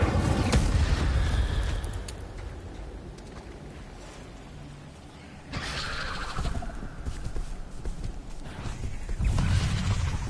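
The Incendio fire spell goes off in Hogwarts Legacy as a pair of loud, rushing blasts, the second surging in partway through over continuous game sound.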